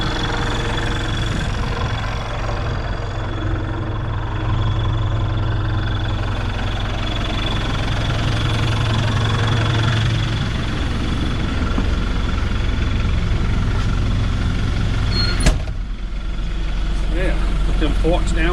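A one-ton truck engine idles nearby in a steady low, throbbing rumble, holding constant throughout with a brief clank near the end, while a person talks over it.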